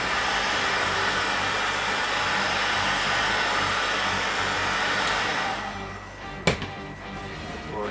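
Hot air tool blowing steadily while gently heating foam template parts for a budget BB-8 body build, a loud continuous whooshing roar that cuts off near the end, followed by a brief click.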